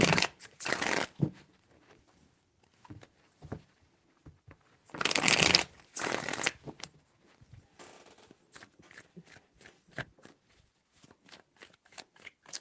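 Tarot cards being shuffled at a reading, heard as bursts of riffling and rustling that come close and loud, with a longer burst in the middle and softer card handling and taps in between.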